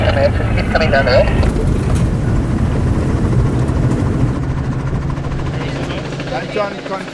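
A helicopter flies nearby with a continuous, loud rotor and engine roar that holds steady throughout, with voices faintly present beneath it.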